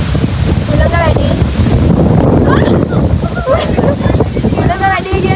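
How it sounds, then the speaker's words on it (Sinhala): Strong wind gusts buffet the microphone at a hilltop viewpoint near Mandaramnuwara in Sri Lanka, a loud continuous roar with people talking and exclaiming over it. "හුළඟ වැඩි කියන්නේ හුළඟ ගහන් යනවා අපේ කට්ටියව."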